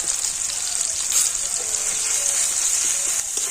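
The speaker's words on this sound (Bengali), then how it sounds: "আদাটাও তেলের উপরে আমি একটু ভেজে নিচ্ছি" Ginger paste fries in oil with a loud, bright, continuous sizzle that stays even throughout and has a few faint clinks underneath. No one talks.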